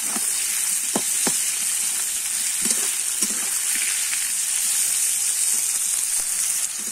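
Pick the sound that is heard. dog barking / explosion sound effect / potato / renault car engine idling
potato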